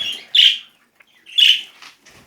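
Baby birds in a nest give two loud bursts of shrill, high chirping, close by, with short quiet gaps and a few softer peeps in between.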